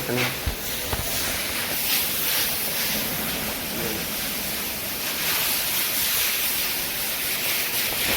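Water sprays and washes over a shed, a broad, continuous hissing rush that stays loud and even throughout, with a couple of faint knocks near the start.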